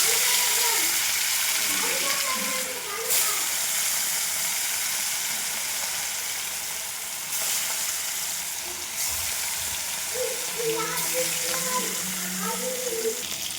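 Fish rubbed with salt and turmeric sizzling in hot oil in a pan, a steady near hiss with brief louder spatters, while a person speaks over it at times.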